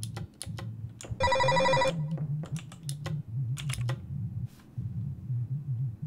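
A phone rings once in the horror game Hush Little Baby, a short harmonic trill over steady low hum, with clicky keyboard-like taps scattered before and after.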